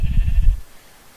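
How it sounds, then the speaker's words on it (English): A sheep in Minecraft gives a few quick bleats, close and fairly loud, then falls silent. "I'm sorry, sheep, but I need your wool."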